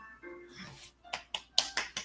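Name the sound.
finger snapping imitating applause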